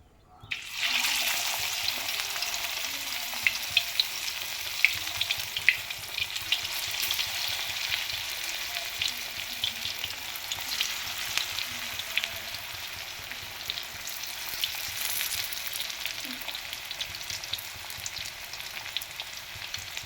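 Raw banana slices deep-fry in hot oil, giving a steady, dense sizzle and crackle that runs unbroken and fairly loud from start to finish, with no talking.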